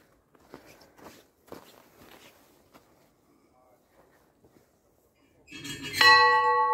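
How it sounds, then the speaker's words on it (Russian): A mountain bell rings out bright and loud near the end, after a stretch of footsteps and small shuffling noises, with a voice heard briefly. "Колокол позвоним."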